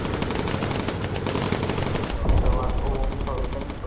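A bomber gunner in the video game Bomber Crew fires a sustained burst of rapid machine gun fire, loud and continuous, with a heavier thud mixed in partway through.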